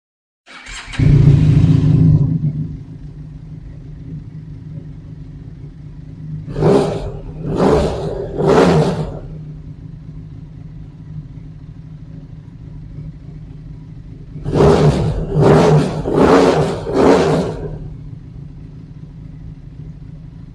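A Benelli TRX 502X motorcycle engine cranks and catches, settling into a steady idle, then revs sharply three times, idles, and revs four more times in quick succession.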